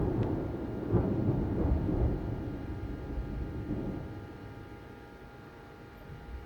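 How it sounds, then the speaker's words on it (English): A big thunderclap rumbles loud and deep, then slowly rolls away into a steady, fading roar with no other sounds. "That was a pretty big thunder."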